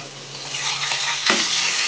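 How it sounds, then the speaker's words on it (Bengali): Bhola fish pieces frying in hot oil, a loud close continuous sizzle that flares briefly as a piece is flipped, with no voices. "মাছগুলো এবার আমি উল্টে দেবো।"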